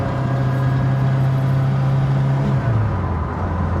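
A cold, low-powered Ford Pinto engine drones steadily while cruising at about 45 mph, a loud continuous hum with a slight pitch drop near the end, no talking.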